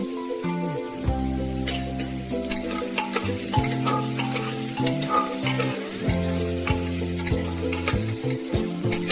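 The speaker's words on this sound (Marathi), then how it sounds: "आता ते चांगले परतून घ्यायचे आपल्याला।" Potatoes sauté in oil in a pan for Maharashtrian spiced rice, with a steady sizzle and repeated spoon scrapes and taps, stirred steadily under sustained background music.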